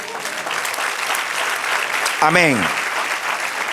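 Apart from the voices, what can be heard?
congregation applauding the Lord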